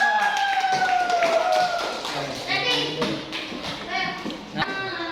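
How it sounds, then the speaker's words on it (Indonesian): Applause for a presenting student group in a classroom: scattered hand claps and taps from children, with a teacher and kids speaking over them. "Kita berikan tepuk tangan kelompok 4."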